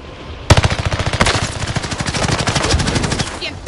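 Call of Duty gunfire on Rebirth Island: a sudden loud burst of rapid automatic shots that rattles on in a fast, steady rhythm for about three seconds before tapering off.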